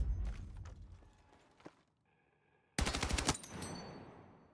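A DRS-IAR machine gun in Battlefield 6 fires a tight, rapid burst of shots near the end, after a quieter stretch of scattered thuds and a brief tonal hum.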